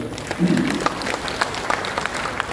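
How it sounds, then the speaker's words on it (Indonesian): Audience applause at a regional government expo in Indonesia, a steady wash of many clapping hands in a large hall, with a brief voice rising over it near the start. "Kita tepuk tangan buat itu."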